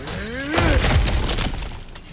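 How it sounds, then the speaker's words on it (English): Something smashed apart in God of War Ragnarök, a sudden crashing shatter of breaking debris after a short rising voice-like tone, with scattered fragments clattering as it fades. "back to smashing through things for fun and profit"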